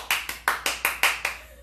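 Seven sharp, evenly spaced hand claps ring out close and fairly loud, cheering someone for unloading the dishwasher at home, with no voices over them.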